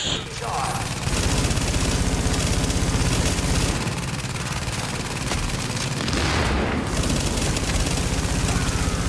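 Rapid gunfire with incendiary flame bullets in the video game Tom Clancy's The Division, loud and sustained bursts filling most of the stretch over a dense game soundscape, with someone talking over it.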